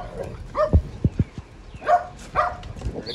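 Dogs bark in several short, punchy bursts at close range, with gaps between volleys and some thumping movement, while a voice speaks briefly now and then.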